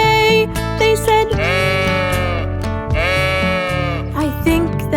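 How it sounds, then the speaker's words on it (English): Woolly sheep on a farm bleat in long, wavering, loud cries, two drawn-out bleats in close succession over a bright, steady musical backing in a children's song. "I stopped when I saw some woolly sheep to see what they would say."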